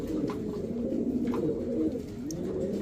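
Pigeons at a sale centre, including pairs of tail-marked birds, coo steadily and fairly loudly in a continuous low rolling chorus with no talk over it.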